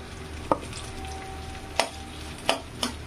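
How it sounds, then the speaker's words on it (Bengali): Boiled eggs fry lightly in a pan with a soft steady sizzle on medium heat, broken by four sharp scraping spatula strokes at roughly even intervals, close by and with no voices. "এটা একটু হালকা করে ভেজে নেব"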